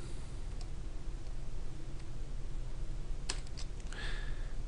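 Light typing on a computer keyboard while entering a VLOOKUP formula, faint scattered key clicks at first, then a quick burst of several taps near the end, alone with no talk.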